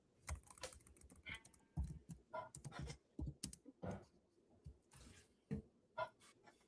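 Typing on a computer keyboard, close and fairly quiet, with irregular bursts of key clicks and short pauses between them and no talking.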